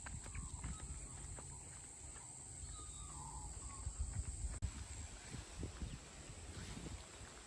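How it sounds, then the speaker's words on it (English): Faint clip-clop of a neighbor's horses' hooves at a slow, uneven walking pace outdoors, with light wind noise in the background. "so I can go and see my neighbor's horses because they're so beautiful."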